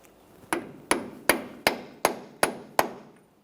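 Seven evenly spaced, sharp metallic hammer taps drive a socket against a part to seat it on a 2004-2008 Ford F-150 front shock absorber, each strike close and ringing with a short decay, no voices.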